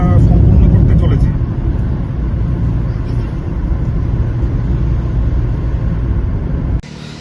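A car on a long road trip toward Bhairabkunda, Arunachal, gives a steady low engine and road rumble from inside the cabin, with a person talking over it throughout.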